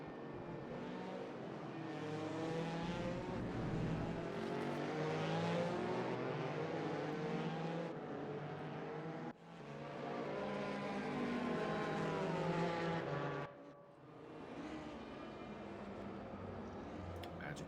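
A race car in RaceRoom at the Lausitzring drives through the finish with a loud, rising and falling engine roar. It dips briefly with each gear change and fades toward the end.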